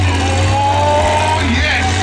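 A monster truck engine at the UK Monster Truck Nationals 2025 show roars in a loud, steady, droning rev that holds without a break, with an announcer speaking over it.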